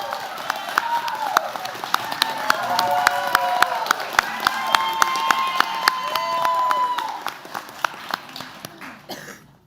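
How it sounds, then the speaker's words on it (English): Applause and cheering at a radiography pinning ceremony as the winning team stands, scattered claps and crowd voices with some shouts over a steady murmur, fading near the end. "Please stand and be recognized as we applaud you."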